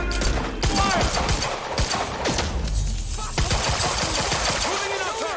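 Dense, continuous automatic gunfire in Quantum Break, with rapid overlapping shots, clattering impacts and shouted commands mixed into a loud, chaotic firefight.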